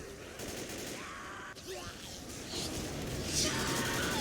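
Sustained gunfire rattles on through a Left 4 Dead session, a steady dense clatter lasting several seconds while people talk over it.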